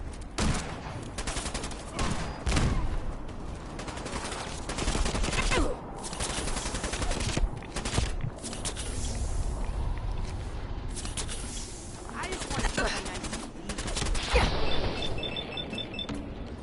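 Gunfire in Fallout 4 from a settler firing an incendiary laser rifle amid other weapons, dense bursts of rapid shots and crackling impacts continuing throughout, loud and chaotic with brief lulls.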